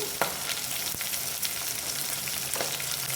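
Chopped snake gourd frying in a pan for Telugu potlakaya pulusu, a dense continuous sizzle with a few sharp scrapes of stirring, no talking.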